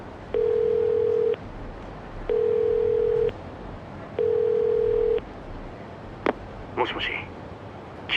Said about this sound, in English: find the payphone.